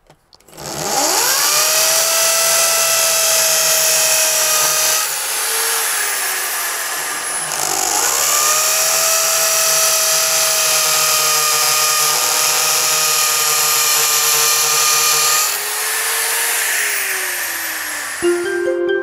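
Power drill boring holes into a wall to hang a planter, loud and close, a high motor whine running in long bursts with brief spin-downs between them.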